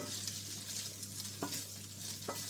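Bacon bits crisping in a pan for macaroni cheese give a steady, soft sizzle with a hum beneath, and two brief scraping stirs cut through near the middle and end.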